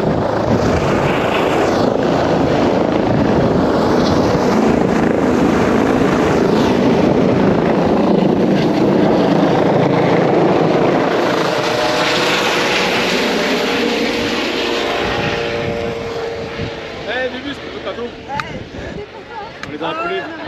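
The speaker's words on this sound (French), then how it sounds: "c'est pas un terrible vent, c'est l'hélico qui décollait" Loud, close rotor and engine roar of a medical helicopter taking off from a summit, heavy wind buffeting, steady for most of the clip before easing off, with voices faintly underneath toward the end.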